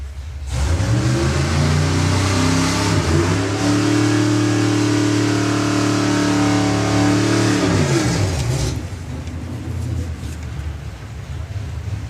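A hot rod drag car at a drag racing event launches and accelerates down the strip, its loud engine roar climbing through rising revs for several seconds before fading into the distance.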